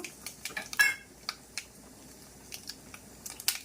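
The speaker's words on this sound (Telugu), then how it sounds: "ఆవాలు చిట్టుపట్లాడుతున్నాయి." Mustard seeds crackling and spluttering in hot oil in a pan during Telugu ridge gourd chutney cooking, heard as scattered sharp pops and small crackles, faint and irregular, with no talking.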